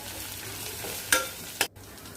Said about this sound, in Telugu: తగినంత అల్లం వెల్లుల్లి పేస్ట్ వేసుకొని వేయించేసుకోవాలి